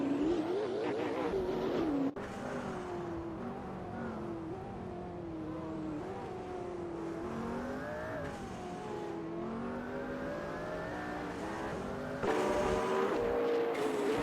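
AI-driven hypercars race at Spa in a racing video game, their engines whining loudly and continuously, rising and falling in pitch as cars accelerate, shift and pass close by, with occasional tire squeal.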